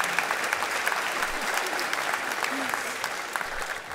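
At a benefit gala, an audience breaks into steady, dense applause that fills the room and carries on throughout, with a voice faintly heard underneath.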